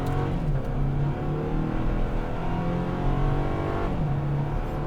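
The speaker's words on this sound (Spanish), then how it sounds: "vamos a hacer un 0 a 100, launch control, tracción trasera obviamente con modo Sport" A Toyota Tacoma SR 4x4 pickup launches from 0 to 100 with launch control in rear-wheel-drive Sport mode, its engine revving hard and loud with audible gear changes breaking the rising pitch.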